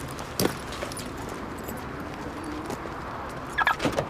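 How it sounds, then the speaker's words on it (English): Keys jangle in brief metallic bursts, one near the start and a clustered rattle toward the end, over steady low background noise. "Keys."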